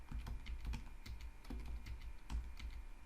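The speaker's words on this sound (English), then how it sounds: "So I'm going to have to type some of this in manually." Rapid, close typing on a computer keyboard, a dense run of crisp clicks and key taps with brief irregular pauses, no voices.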